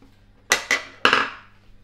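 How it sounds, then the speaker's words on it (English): Metal utensil strikes against a pot while stirring cooked vegetables for Moroccan lamb mechoui, three sharp clanks with short ringing decay, close and isolated. "We'll give it a stir."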